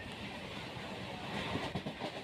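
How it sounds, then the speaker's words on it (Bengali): A train pulling into Diamond Harbour station, a loud close rumble of railcars with rolling clatter from the wheels, steady throughout and no voices. "আমাদের ট্রেন যখন এসে ডায়মন্ডহাব স্টেশনে দাঁড়ালো"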